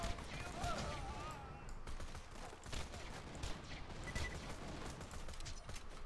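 Rapid gunfire from a weapon in the video game Borderlands 2, a dense run of overlapping shots and impacts that fills the whole stretch at steady loudness.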